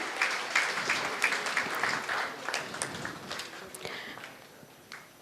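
Audience at an infrastructure and ports conference applauds an arriving guest, a quieter scattered clapping with distinct individual claps popping out over a soft room wash.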